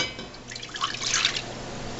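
A cup of water poured into a container while making date pinwheel cookies, a brief, close splashing and trickling pour lasting about a second, with no talking over it.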